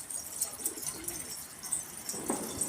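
Pigeons coo repeatedly in soft, throaty, rolling calls, fairly close and steady throughout, with faint chirps in the background and no talking.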